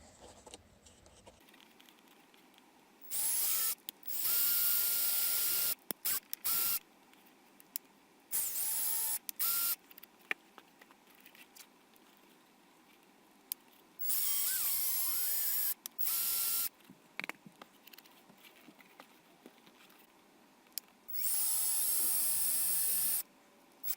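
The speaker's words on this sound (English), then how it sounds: "what I'm going to do is make a pilot hole" A small power drill whirs in several short bursts, drilling pilot holes into soft cork, separated by quiet pauses, each burst steady and close.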